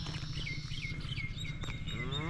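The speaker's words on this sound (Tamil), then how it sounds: "ஓகே வெல்கம் அந்த மாடு நம்மளை." A cow moos several times in the open yard of a farmhouse, fairly near and steady, while birds chirp faintly in the background.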